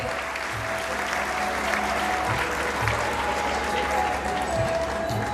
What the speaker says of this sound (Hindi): तो एक बार फिर से जोरदार तालियां हो जाए हमारी जंग टीम के लिए।